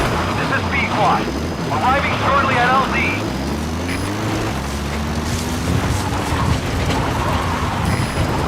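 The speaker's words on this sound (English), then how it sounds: "Support helicopter has arrived." Support helicopter arriving in Metal Gear Solid V: The Phantom Pain, a loud rotor drone with shifting engine pitch as it nears the landing zone, under radio voice chatter.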